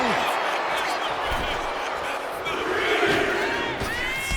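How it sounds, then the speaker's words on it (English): Wrestling arena crowd in the WWE 2K25 video game cheers and roars in a continuous swell, with a commentator talking over the noise. "However you feel about Seth Rollins, he knows how to get the crowd going."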